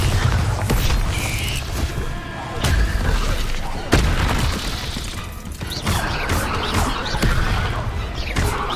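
Repeated Bombarda explosion spells from the Hogwarts Legacy video game, a dense run of loud booms and crashes over rumbling background noise.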